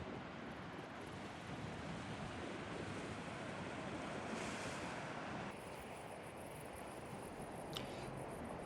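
Surf rolling onto the boulder-strewn shoreline of Marshall Bay on Flinders Island, Tasmania, a steady broadband wash with wind noise on the microphone and no voices.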